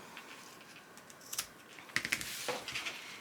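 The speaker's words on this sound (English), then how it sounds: "So now I'm just going to cut off the tails of this zipper." Scissors snip through the tails of a zipper on a vinyl saddle cross-body bag, a few quiet crisp cuts close by with faint handling noise between them.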